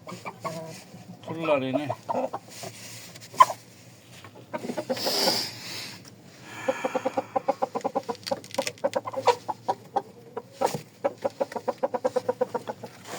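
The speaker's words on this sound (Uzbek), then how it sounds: "Hozir sizlarga bir tovuq ko'rsataman." A chicken clucks in repeated short bursts, close and fairly loud, with someone talking intermittently over and between the calls.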